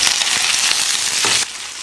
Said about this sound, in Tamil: கடுகு, கடலைப்பருப்பு, உளுத்தம்பருப்பு, காஞ்ச மிளகா, பூண்டு, கருவேப்பிலை போட்டுக்கலாம்.